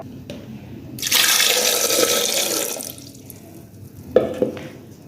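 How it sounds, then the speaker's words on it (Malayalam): Water pours steadily into a pressure cooker holding tapioca (kappa) for about two seconds, a loud broadband splash that tapers off, followed by a couple of small clunks and drips nearby. "ഇനി നമുക്ക് ഇതിനകത്തേക്ക് വെള്ളം ഒഴിക്കാം"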